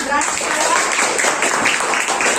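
A brief burst of classroom clapping follows a student's correct answer during a school lesson, short and fairly loud with some voices mixed in.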